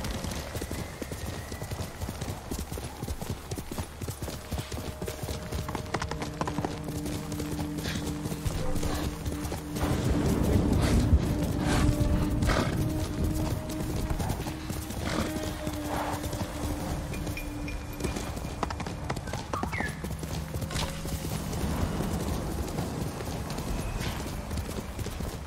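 Horse hooves clip-clopping on a ride in Ghost of Tsushima, a steady, rapid galloping rhythm at moderate volume that swells briefly midway, with an occasional faint whinny and distant ambient tones underneath.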